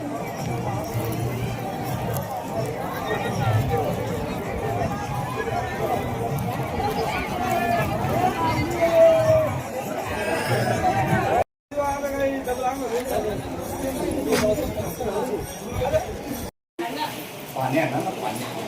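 A huge crowd of pilgrims fills the streets of Pandharpur, a dense continuous hubbub of many voices and shuffling feet, loud and close, with people talking throughout.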